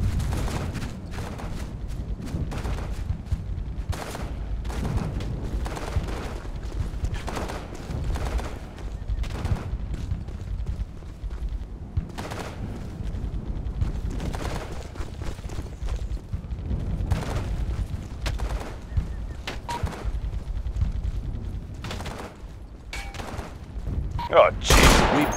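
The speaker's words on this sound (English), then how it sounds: "Taking small arms fire." Small arms gunfire in the Operation Flashpoint: Dragon Rising military shooter, scattered rifle shots and short bursts near and far in an ongoing firefight, with radio voices speaking at times.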